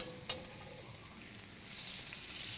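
A boneless ribeye steak fries with garlic in vegan butter, giving a soft, continuous sizzle with a faint tap near the start, quiet and close.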